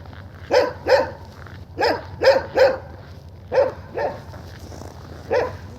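A dog left on a chain barks in repeated bursts, eight or so loud, close barks in uneven pairs and singles, with quieter background hum between them.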